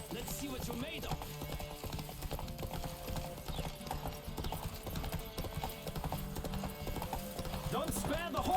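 A horse at full gallop in a Witcher 3 race, its quick rhythmic hoof clatter driving steadily and growing louder toward the end, with game noise and some talking over it.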